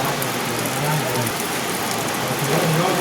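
Heavy rain pouring down in a steady loud hiss with no breaks, a faint voice-like murmur briefly under it.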